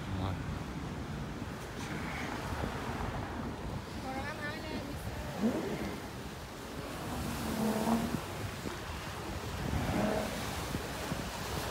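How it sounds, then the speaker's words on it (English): Steady wind and broadband outdoor rumble on Beach Road, Thailand, with distant speedboat engines droning, faint voices and murmurs drifting through now and then. "Those are the speedboats that take you out to Koh Larn, and it's a little windy."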